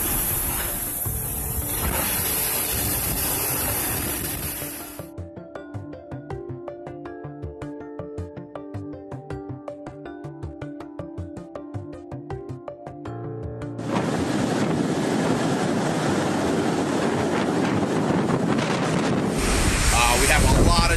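Hurricane Irma's wind and surf at Key West, Florida roar loudly with heavy gusts buffeting the microphone, dropping to quieter stretches midway before the roaring wind returns full force.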